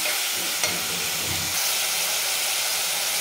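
Chicken pieces sizzle and hiss in an uncovered pan, a dense, loud, steady frying sound up close with a few stirring scrapes and no voices.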